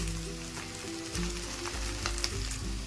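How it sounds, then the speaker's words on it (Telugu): Spices fry and sizzle in a pan for curry, a steady dense hiss with a low background hum and a few scraping stirs, no talk. "ఇలా బాగా వాసన పోయేదాకా మనం వేయించుకున్నామండి"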